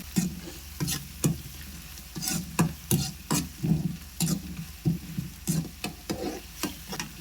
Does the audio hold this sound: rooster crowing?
no